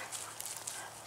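A German shepherd barks outdoors in an afternoon field setting, calling wild pheasants; the barking is faint and distant, blended into steady background hiss over about a second.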